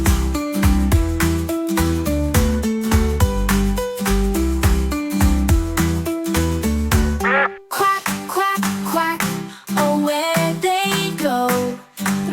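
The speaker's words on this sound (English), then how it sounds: "Mama kept calling, quack, quack, quack" Cheerful duck quacks ring out in a bouncy children's sing-along song, the short nasal calls blending with a steady, loud musical backing.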